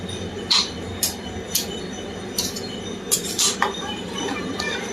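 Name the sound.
stirring boiling milk in a pot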